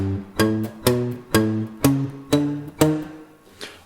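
Guitar plays the bass line of a song, a run of punchy plucked low notes in a steady groove, up close and alone with no talking.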